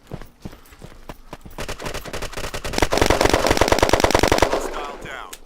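Rapid automatic gunfire in the online shooter Red Crucible Firestorm, a few scattered shots building into a dense, evenly spaced burst that cuts off abruptly.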